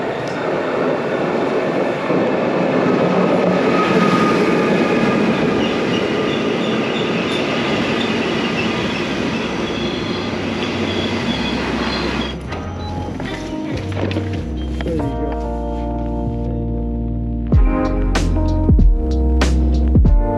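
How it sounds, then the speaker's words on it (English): A train arriving from Venice rolls into a station with a loud, rumbling wash of wheels and carriages, then slows into ringing, squealing brake tones and sharp metallic clanks near the end. "The train from Venice is about to come."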